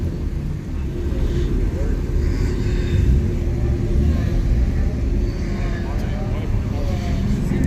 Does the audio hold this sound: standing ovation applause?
no